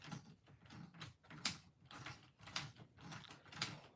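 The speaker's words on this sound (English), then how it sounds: "I have never heard clicking like that on a front diff before" A bad front differential on an Associated Nitro TC3 RC car clicks as a wheel is spun by hand, a faint, close, irregular series of mechanical ticks and ratcheting clicks repeating in rough rhythm, without talk.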